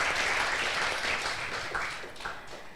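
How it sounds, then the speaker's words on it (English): Seminar audience applauding speakers at an agricultural technology short course, a steady wash of clapping filling the room for a few seconds, moderately loud and fading slightly toward the end. "please give applause for those speakers on today's seminar"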